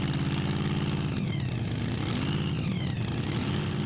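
Burning Baby, a Swedish pulling tractor, runs its engine at a Eurocup tractor pulling final in Brande, Denmark, a loud, dense mechanical roar with rising and falling pitch sweeps.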